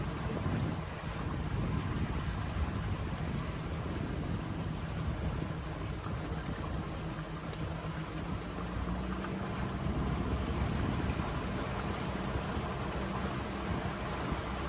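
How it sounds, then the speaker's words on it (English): A motorboat cruises the residential canals of Hernando Beach, Florida at an easy pace, giving a steady engine drone mixed with rushing wind and water noise that runs unbroken throughout, with no talk. "We are cruising the canals of Hernando Beach, Florida on July 13th"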